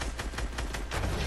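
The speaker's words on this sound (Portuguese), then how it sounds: "E 2 tiros foi o suficiente pra eu ganhar" Rapid gunfire in the Fortnite video game, a dense burst of loud repeated shots in quick succession filling the whole moment.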